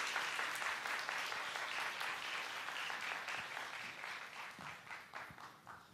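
Church congregation at a youth worship service applauding to welcome a pastor, steady dense clapping from a crowd throughout, loud and sustained before slowly thinning near the end.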